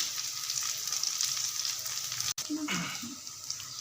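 Mixed vegetable kebabs fry in a pan with a continuous, moderate sizzle. A brief break comes midway, followed by a few clinks and light handling noises.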